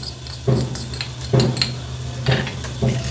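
Frankie masala spices being mixed with salt in a bowl, a spoon scraping and clinking against the bowl in regular strokes roughly once a second, close and clear.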